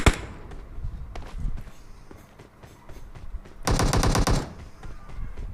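Video game gunfire rattles in short automatic bursts with scattered single shots. A loud, dense burst of rapid fire comes near the end, with no voices heard.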